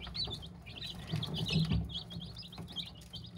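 Young chicks chirp while eating from a plastic feeder, a flock of soft high peeping calls repeating continuously, with faint pecking and shuffling underneath.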